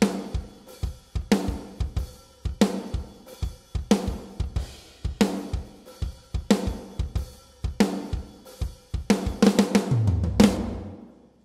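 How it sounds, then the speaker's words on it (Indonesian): Full drum kit track, unprocessed before a channel strip: punchy kick, snare and cymbal hits in a steady groove, ending on a fill and a ringing crash, with no talk. "di sini aku akan contohin pada sebuah track drum full ya, full kit"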